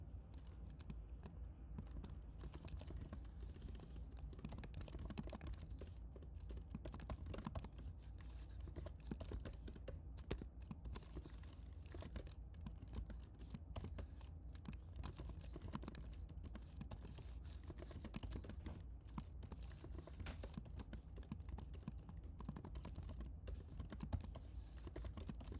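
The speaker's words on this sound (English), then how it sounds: "you want to get that satisfaction of actually typing this stuff out" Keys on a computer keyboard clatter in a soft, continuous stream as code is typed out, faint and fairly even throughout with no voices.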